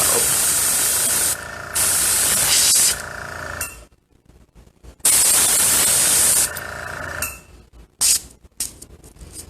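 Long hissing bursts of spray, loud and close, starting and stopping several times with short quiet gaps between them.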